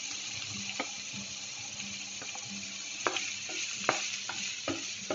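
Chopped onion and finely cut green chilies frying in a pan on low heat, a soft steady sizzle with scattered clinks of a stirring spoon against the pan.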